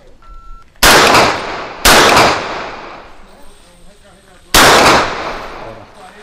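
Three sharp, loud gunshots ring out at a shooting course test, two close together and a third after a pause, each with a short echoing decay.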